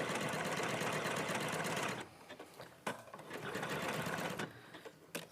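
A sewing machine stitches fabric in a steady mechanical whir, loud and continuous for about two seconds, then stopping and restarting in shorter bursts with quieter gaps between.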